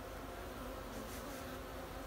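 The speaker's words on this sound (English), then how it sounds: "Look at the bees, though." Honey bees hum steadily while a full hive is open for inspection, a soft, continuous buzz of many insects at close range with no talking.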